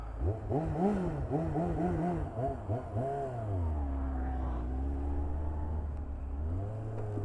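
A truck engine revs up and down repeatedly nearby, then settles into a steady droning hum as the truck moves off, with a rising pitch near the end.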